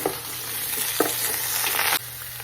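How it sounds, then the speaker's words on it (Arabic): Loud, hissing sizzle of lamb shank frying in a hot pot with bay leaves, cardamom and cloves, with stirring scrapes throughout and a brief drop in intensity near the end. "ونقليها ويا اللحم"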